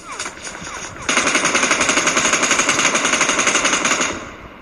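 Video game gunfire bursts out as a sustained, loud rapid-fire volley lasting about three seconds, preceded by a few faint scattered shots.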